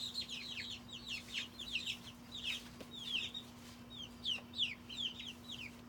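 Chickens cluck in a busy flurry of short, overlapping calls at close range, set over a steady low hum inside a newly built coop.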